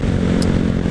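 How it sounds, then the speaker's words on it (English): A 2015 Honda Grom motorcycle being ridden gives a loud, steady engine drone mixed with heavy wind rumble for under a second. "I'm riding a 2015 Honda Grom."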